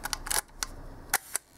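A 1955 Leica M3 double-stroke rangefinder camera fires its shutter at 1/5 second: two crisp, close mechanical clicks about a fifth of a second apart, preceded by a few lighter clicks and rattles from handling or winding.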